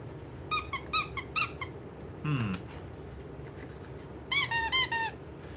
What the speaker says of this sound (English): It's kind of a whiny, sissy squeak.